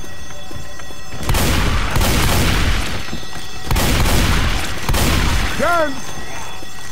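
A Molotov cocktail bursts in Left 4 Dead 2: loud crackling whooshes of fire and impacts arrive in two broad waves with a sharp burst between them, followed by a brief rising squeal near the end.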